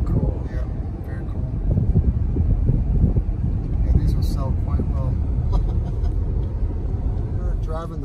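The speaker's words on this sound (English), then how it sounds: "Driving the Mustang Mach-E Ford electric SUV, the new 2021, and it drives really well, handles great, brakes well." A 2021 Ford Mustang Mach-E all-wheel-drive electric SUV on the road, heard from inside as a steady broad rumble of tyre and wind noise, with occasional faint voices and squeaks over the constant drone.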